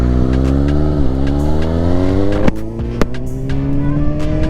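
A 2018 Suzuki GSX-S750 motorcycle with 12,000 miles on it accelerates hard out of first gear, its engine note climbing steadily in pitch and revving loud and close before a brief dip at the shift.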